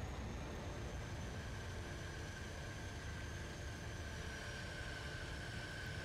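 Train approaching in Just Cause 3, a steady broad rumble with a faint high whine that continues unbroken for several seconds, with no voices.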